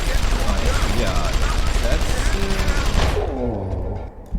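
Heavy, continuous gunfire during a Deus Ex: Human Revolution firefight, loud sustained bursts that cut off abruptly near the end, with a voice talking briefly over it.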